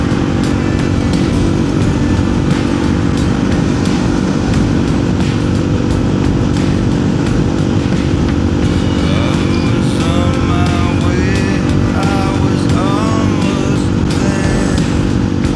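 A motorcycle is ridden on open roads, its engine droning loudly and continuously close by, with wind rush over the whole ride and several rising and falling shifts in pitch as it changes speed.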